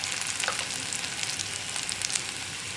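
Ginger and turmeric powder frying gently in oil on a low flame, giving a steady, close hiss of fine crackling that keeps an even level throughout.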